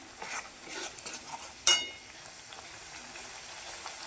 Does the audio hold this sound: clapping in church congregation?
no